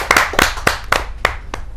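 An audience at a Hindi poetry gathering claps to welcome a poet, a short run of about six loud, evenly spaced claps close by, with no talk.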